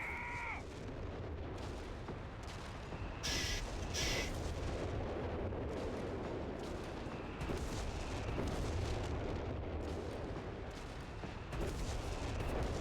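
An artillery barrage rumbles steadily in the Company of Heroes 3 video game, with low booms layered into a dense battle din that stays loud throughout. Brief higher-pitched game effects cut in near the start and around the third second.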